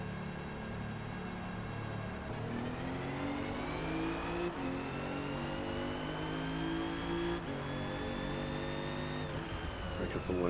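A 2017 Alfa Romeo Giulia racing at Hakone in Forza Motorsport, its engine droning steadily and climbing in pitch through repeated upshifts with brief drops between gears, loud and continuous throughout.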